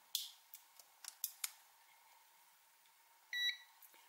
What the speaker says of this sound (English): You can hear the meters come on.